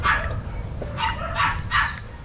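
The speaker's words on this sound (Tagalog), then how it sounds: "Aso! Aso na naman!" A dog barks four times in a quick, uneven series, fairly close and moderately loud, over a steady low background rumble.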